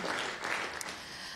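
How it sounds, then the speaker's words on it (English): Brief, faint clapping and cheering from a small audience at a Python programming talk, a soft wash of hands lasting just over a second. "And I'm getting some cheering"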